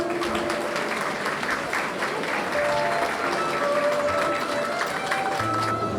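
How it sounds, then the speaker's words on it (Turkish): Guests at a university staff anniversary reception applaud while the cake is cut, a moderate, even wash of clapping from a crowd in a large hall with faint background voices. "Alkışlarınızla lütfen."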